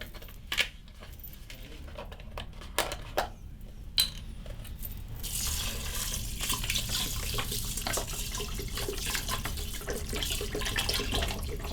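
Flavored liquid pours into a pot of rice as a steady, continuous splashing stream that starts about midway, after a few light clinks and taps.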